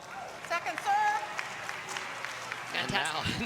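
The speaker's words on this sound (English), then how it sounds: "he's getting clapping for a ball that he misses off his feet" Scattered clapping from a packed crowd at a doubles quarterfinal match, with commentators speaking over it.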